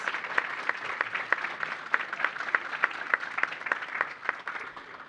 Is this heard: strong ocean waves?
no